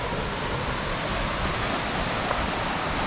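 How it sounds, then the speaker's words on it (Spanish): Steady roaring rush of a waterfall in the Amazon jungle near Puyo, Ecuador, a dense broadband wash of falling water heard up close and continuous throughout, with no other sounds standing out. "Parece que llegamos a la cascada, señores."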